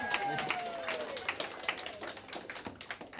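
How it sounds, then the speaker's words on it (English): An audience at a youth political event claps for the next speaker, a moderate crowd of hands with scattered sharp claps, with voices and a whistle mixed in. "this is where you clap"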